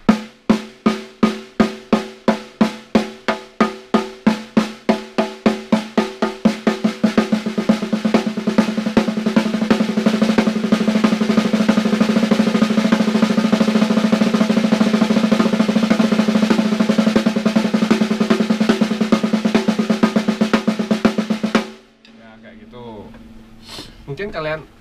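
Drum strokes in an alternating right-left sticking pattern, played by a beginner-level drummer, begin as evenly spaced single hits and quicken into a dense, steady stream of close, loud strokes before stopping abruptly near the end.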